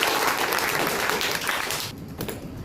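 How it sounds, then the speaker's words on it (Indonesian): Applause from a class during a school lesson on the Gulf War, a dense steady wash of clapping that fills the room, then thins out near the end. "Oke, beri tepuk tangan."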